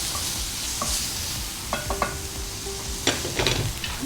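Sliced onion and boneless chicken breast fry for chop suey in a cooking-show kitchen, giving a continuous close sizzle with spatula stirring. Sharp utensil clinks against the pan and a brief tonal scrape come near the middle and end.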